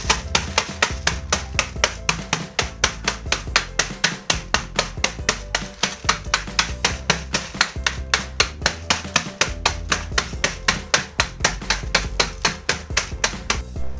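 Marie milk biscuits being crushed by hand for a no-bake mango pudding cake, a rapid, regular series of crisp cracking and tapping strokes, loud and close, with no talking.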